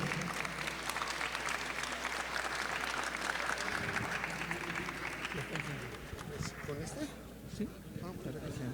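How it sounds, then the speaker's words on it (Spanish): Strong applause from a university conference audience welcoming a lecturer, a dense continuous wash of clapping that carries for several seconds before thinning out as a voice begins speaking. "lo recibimos con un fuerte aplauso"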